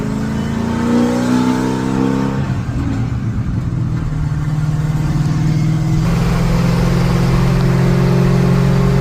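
A Ford F100 pickup with a 460 big block V8 drives down the road, its engine droning loudly and steadily, with the pitch shifting as it changes gears partway through.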